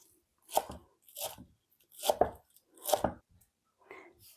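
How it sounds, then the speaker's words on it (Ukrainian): Knife chopping green onion finely on a board: five separate rhythmic bursts of crisp cutting strokes, close and clear, with short pauses between them and no talk. "Ну, а це дрібнесенько нарізаємо."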